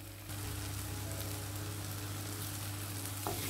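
Coconut milk and masala curry for Kerala-style sardines bubbles in a pan with a steady, close sizzling hiss that runs unbroken, alone without talk.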